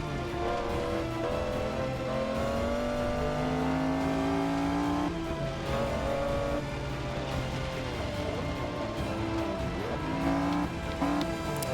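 A race car engine in Forza 6 is held below full throttle on the wrong tyres, droning steadily with rising and falling pitch as it revs, loud and continuous with no talk.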